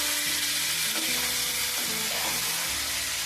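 Chicken and chana dal masala curry, seasoned with chili powder and salt, sizzles and bubbles loudly and steadily in a pan while being stirred, with soft scraping strokes running through the constant frying hiss.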